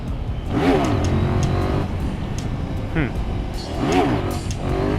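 Motorcycle engine revving in third gear at lower RPM, rising and falling in several swells over steady wind and road rush, close and fairly loud.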